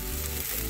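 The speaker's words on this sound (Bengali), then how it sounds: "রসুন টমেটো আমার ভালোই ভাজা হয়ে গেছে।" Onion, garlic and tomato sizzle steadily in a hot pan, a continuous close frying hiss with no voices over it.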